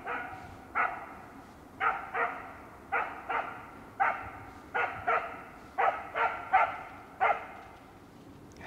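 Hunting dogs barking during a driven hunt for red deer and wild boar, a repeated series of about a dozen sharp barks at a steady, fairly quick rhythm, moderately close in an open outdoor setting.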